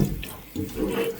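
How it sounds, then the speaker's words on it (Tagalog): A kitchen tap runs water into a sink, a close, steady splashing flow that shifts slightly in tone partway through, heard alone without talking. "Tubig."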